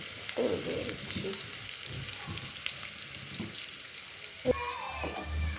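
Onion frying in oil for a cauliflower mustard curry, a steady close sizzle that carries on throughout with a few stirring scrapes and a clatter near the end, no voices.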